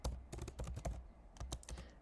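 Steady typing on a computer keyboard, with quick, close, soft key clicks in a continuous irregular rhythm and no voice.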